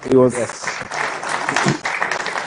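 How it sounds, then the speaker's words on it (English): Applause from an audience at the Ghana-UK Investment Summit 2026 in London, a steady wash of clapping running beneath a voice as he speaks. "Yes, go ahead and clap."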